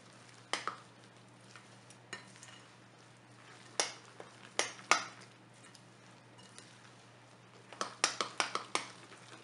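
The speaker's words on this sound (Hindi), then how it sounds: "अब हमने इन सारी चीजों को अच्छी तरह से मिक्स कर देना है।" Moong dal mangore batter with chopped green chillies and coriander is stirred in a bowl, a spoon scraping and knocking in scattered bursts, with a quick cluster of clinks near the end, close and fairly quiet.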